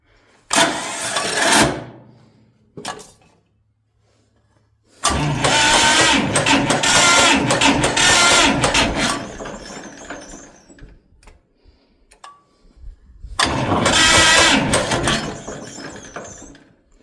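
A repaired John Deere A tractor starter cranks in three separate bursts, one short, one long and one short, whirring and grinding loudly close by with silent gaps between.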